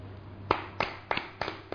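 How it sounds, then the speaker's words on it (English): Sharp hand claps ring out during a rhythm yoga meditation session, five or six single claps spaced irregularly about a third of a second apart, close and crisp over faint background hum. "Srijit, just give a clap"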